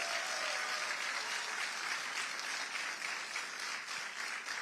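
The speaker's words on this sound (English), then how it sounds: "Let's give him another round of applause." A crowd gives Congressman Richie Torres a round of applause at a political gathering, steady dense clapping from many people that holds for several seconds, with no voices heard over it.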